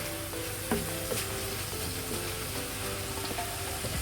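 Thyme and jalapeno chili cook in a hot pan, giving a steady close sizzle and crackle with a few soft knocks and stirring sounds, and no voices.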